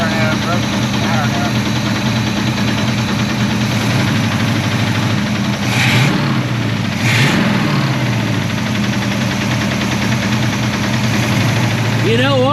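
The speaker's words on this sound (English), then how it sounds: "You got a running engine, you definitely got a place to start." Engine of an abandoned 1984 Chevrolet Monte Carlo race car running steadily at idle, a loud continuous low rumble with a faint knock, close by and alone throughout.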